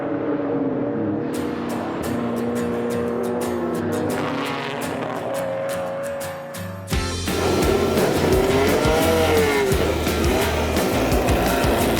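Historic race cars, a 1963 lightweight Jaguar E-Type and a 1966 Ferrari 275 GTB/C, race at the Spa Classic, engines revving loudly and changing pitch as they pass close by, with a sharp shift in engine note midway.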